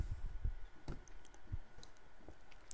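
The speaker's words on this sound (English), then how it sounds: "and let's click gradient again" A computer mouse clicks in Cinema 4D modeling software, giving a few faint, sharp, separate clicks close by with no talking.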